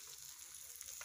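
Shredded cabbage and egg fry in oil in a pan, giving a faint, steady sizzle with a few small pops of splattering oil.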